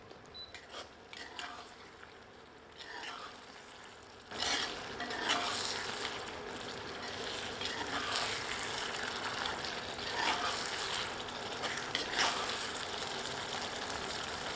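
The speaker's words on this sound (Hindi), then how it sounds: "एक बार अच्छी तरह करछी चलाते हैं।" A ladle stirs a simmering Chettinad chicken curry in a pot, making soft scraping and sizzling sounds with occasional metal clinks, close and fairly quiet, turning busier and more continuous after the first few seconds.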